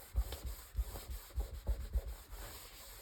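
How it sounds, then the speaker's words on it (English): Scorched timber on a table is rubbed clean with a steady back-and-forth scrubbing rhythm, soft low thumps on each stroke, close and quiet. "I got some scorched timber on the table here. Let me just clean that out before it soaks in too much."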